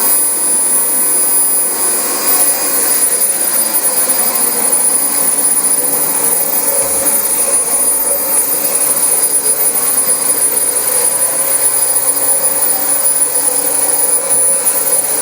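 A six-year-old Dyson DC25 upright vacuum cleaner runs continuously at close range, a loud steady high-pitched whine and airflow roar that holds without pause.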